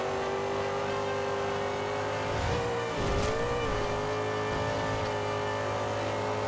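A Ferrari 458 Italia V8 in Forza Horizon 2 holds a steady, loud high-pitched drone at sustained speed, with a brief dip and swell in pitch midway, and no voices.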